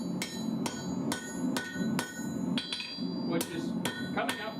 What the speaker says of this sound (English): What I'm doing is hammering the points that I make when I make these angles on it